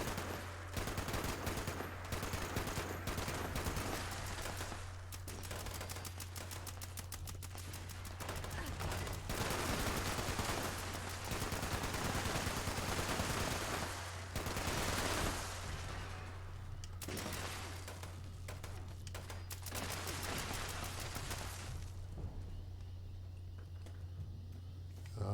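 Sustained gunfire in Fallout 76 from a two-shot .50 cal machine gun, rapid repeated shots in long bursts with short pauses, loud and continuous over a steady low hum.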